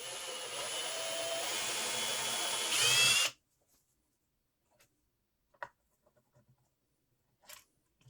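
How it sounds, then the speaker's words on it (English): A power drill whirs steadily for about three seconds while drilling holes in a Squier Mustang guitar body, rising briefly before stopping, followed by a few faint scattered knocks and clicks in near silence. "the drill fits through this"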